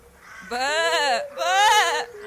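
A frightened lamb's loud bleat, voiced by a person imitating the animal: two long, wavering, quavering cries, close and loud, with a short gap between them.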